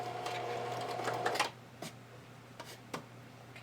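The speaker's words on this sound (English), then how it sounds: "You can switch your sewing machine to a zigzag stitch and begin stitching on." A sewing machine runs a zigzag stitch onto stretch lace trim for lingerie, a steady close mechanical whir that stops, followed by a few faint clicks and taps.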